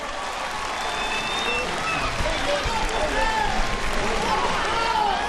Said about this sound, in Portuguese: Queria que vocês dessem um aplauso